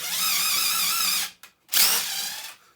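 A cordless drill fitted with a DeWalt DT71517T angle adapter whines loudly at high speed, stops briefly and then spins up again for a second close burst.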